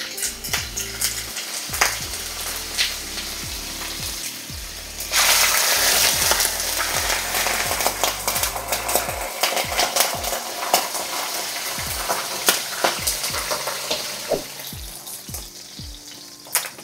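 Pork sizzles steadily in a pan while being browned for Filipino pork hamonado, with a louder burst of frying midway and spoon scrapes and clinks against the pan throughout; no one speaks.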